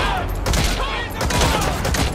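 Enemy soldiers' gunfire in the video game Metal Gear Solid 5: The Phantom Pain at an enemy base, rapid bursts of shots cracking over a dense, loud battle din.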